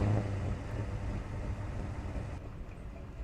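A 1990 Phantom Gale car idles in a simulator game, a steady, quiet low rumble that holds evenly throughout with no revving.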